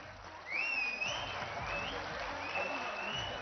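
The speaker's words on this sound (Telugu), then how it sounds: "తెలంగాణ రాష్ట్ర వ్యాప్తంగా లక్షలాది చప్పట్లు మోగుతూ ఉన్నాయి." A crowd applauds at a felicitation event for Telangana Chief Minister Revanth Reddy. The clapping swells in after a brief lull and holds steady, with shrill whistles gliding over the dense clatter.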